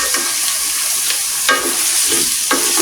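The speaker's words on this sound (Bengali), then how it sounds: "এখন আমি আমড়াটা ঢেলে দেব।" Hog plums stirred into melted sugar in a pan for pickle, a steady sizzling hiss with periodic scraping strokes of a spoon, close and alone.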